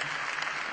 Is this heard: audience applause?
yes